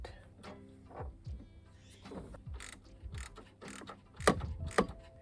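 A bolt, lock washer and nut going onto the bracket of a remote hydraulics kit for a Mahindra compact tractor: close, quiet metallic clicks and scrapes, with two sharper clinks near the end.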